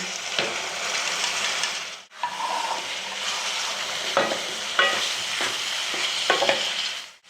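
Chopped tomatoes frying and being stirred in a pan for pav bhaji, a steady close sizzle broken by several sharp scrapes and knocks of the spoon against the pan, with a brief pause near the middle.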